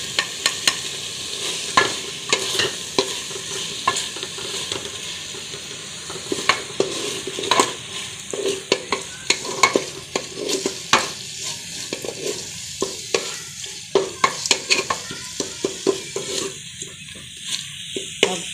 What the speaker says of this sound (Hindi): अब हम इसकी भुनाई करेंगे